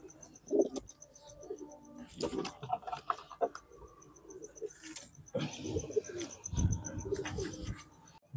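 Fit long-flying racing pigeons at a loft in Bankra give soft, intermittent coos close by, mixed with someone talking over them.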